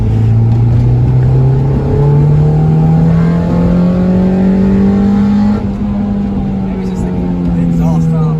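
Acura Integra with a swapped B20 VTEC engine revving steadily and loudly through its crossover, a strong droning tone climbing gradually with rising harmonics over about eight seconds, continuous and close.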